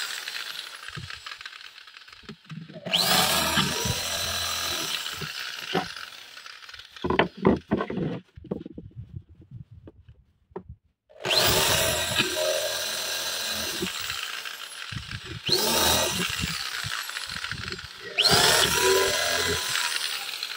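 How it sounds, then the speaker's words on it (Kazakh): A power drill bores holes in furniture panels for a shoe cabinet, sounding in four loud, close bursts of whining drilling separated by clattering handling noises and a short quiet gap. "Енді қазір мына беттерін тесеміз. Дайын тұрған жерлерімізді тесіп шығамыз."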